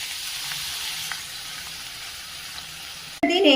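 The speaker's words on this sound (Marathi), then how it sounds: "ही मेथी घेतलेली आहे आणि आता आपण ती थोडीशी फ्राय करून घ्यायची" Chopped fenugreek leaves frying in oil in a home kitchen: a soft, steady hiss of sizzling for about three seconds, then a sudden louder clatter and burst of tonal noise near the end.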